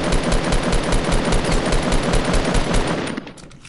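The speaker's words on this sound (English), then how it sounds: "Nope, he's shooting at me, he's shooting at me" Rapid automatic gunfire from a Fortnite match, loud and close, as a continuous rattling burst of shots that runs almost the whole time before cutting off near the end, with no speech over it.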